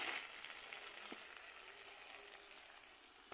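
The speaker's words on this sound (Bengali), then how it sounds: "মাছটা উঠমু ভাজা ভাজা হইছে" Fish frying in hot oil during home cooking, a steady close sizzle and crackle that holds at an even level with no talking.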